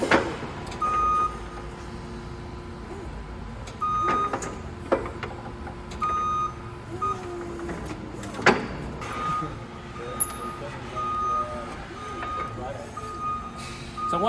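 A machine backs out of a KAUP quick release attachment, its reversing alarm beeping steadily over an idling engine, with occasional metallic clanks and knocks and some talk in the background.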